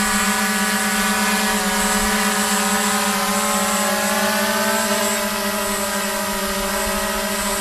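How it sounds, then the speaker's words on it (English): QAV540G quadcopter drone hovering after a hand launch: a loud, steady multi-motor whine with layered tonal hum and whirring, close and constant throughout, no speech. "the copter flies"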